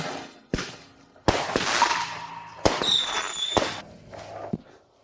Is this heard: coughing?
no